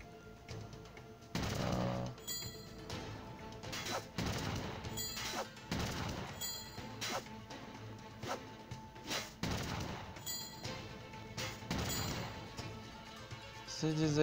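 Repeated booming naval cannon blasts and crashes from a ship battle in Assassin's Creed Pirates, irregular and loud, with talking underneath throughout.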